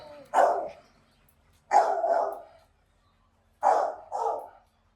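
A dog being evaluated as a search-dog candidate barks loudly at a strange person, giving three separate bursts of one or two barks each with quiet gaps between them.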